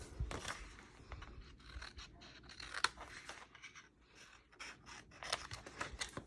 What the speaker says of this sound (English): And come back to your squares and just cut them at an angle.